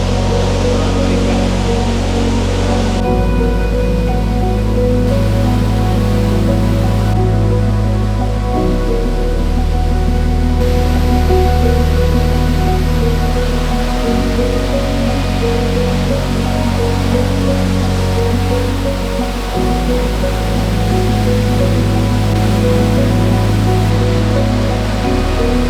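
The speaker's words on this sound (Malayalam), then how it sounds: "വെള്ളത്തിൻ്റെ സൗണ്ട് നല്ല രീതിയിൽ കേൾക്കാം" Water rushes through a forest stream in Mannavan Cholai, a continuous dense hiss-and-roar that stays loud and steady throughout, with faint shifts in tone but no pauses.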